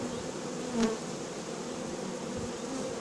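Honeybees fan their wings at a hive, a steady droning buzz of many wings close by with one bee passing briefly louder.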